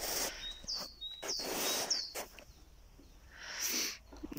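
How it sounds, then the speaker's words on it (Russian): Bird singing outdoors at a countryside homestead, several short chirps and tweets in the first half and another burst near the end, over soft ambient noise. "Вот птичка прям поет так."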